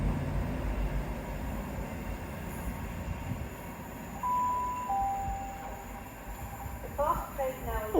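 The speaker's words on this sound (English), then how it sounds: "Oh, the fast train now approaching." Rumbling train noise with rail squeals and a brief high tone, growing busier toward the end; a voice is faintly present.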